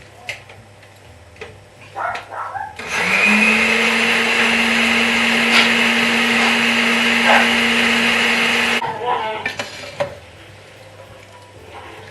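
An electric blender whirs loudly for about six seconds, blending hot pea and ham soup with its cooking liquor, preceded and followed by quieter kitchen clatter and short knocks.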